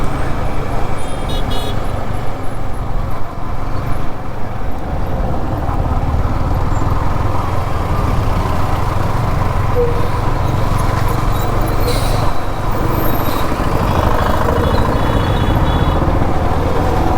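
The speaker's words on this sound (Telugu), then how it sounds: "ఈ టైంలో అయితే ఘోరం ఉంటుంది ట్రాఫిక్." Dense evening road traffic in Hyderabad rumbles on steadily, with engines and tyres droning close by and occasional horn toots and high beeps cutting through the continuous roar.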